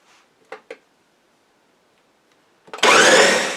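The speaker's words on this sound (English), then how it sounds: "I'm going to put these in my Ninja blender and chop them up into fairly small pieces" A Ninja blender chopping muscadine grapes starts after two light clicks, then a loud, steady whirring roar of the blades runs to the end.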